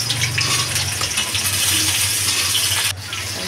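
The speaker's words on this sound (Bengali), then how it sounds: "তো তেল আমার গরম হয়ে গেছে। এবার আমি আলুটা দিয়ে দেবো। আলুটাকে একটু ভেজে নেবো লাল লাল করে।" Potatoes dropped into hot oil in a wok, a loud steady frying hiss that fills the clip and eases slightly near the end; no voices.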